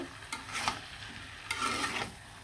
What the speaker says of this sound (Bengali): ভালো করে এভাবে নাড়াচাড়া দিয়ে অবশ্যই মশলার সাথে সবগুলো মাংস মিশিয়ে নেবেন।